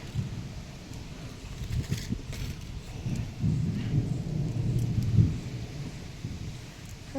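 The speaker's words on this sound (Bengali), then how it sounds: "মেঘ করেছে আকাশ ডাকছে" Low thunder rolls rumbling across a cloudy sky ahead of rain, heard from an open rooftop; the deep rumble swells and fades in long waves with no talking.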